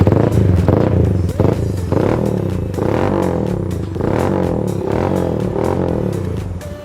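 A Yamaha Thunder 125 bobber build runs through a short SAC M4 stainless steel silencer, giving a loud, close, deep exhaust note with rhythmic pulsing revs and clattering mechanical noise, no talking over it.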